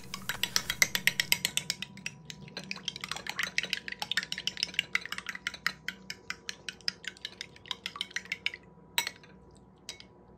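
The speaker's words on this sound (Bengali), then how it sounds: "এবার এই ডিমের গোলার মধ্যে সামান্য গোলমরিচের গুঁড়ো দিয়ে আবারও ভালোভাবে ফেটিয়ে নিচ্ছি।" Beaten eggs with a little black pepper powder whisked briskly in a bowl, a steady run of quick metallic clinks and taps against the sides, close and fairly faint, with brief pauses.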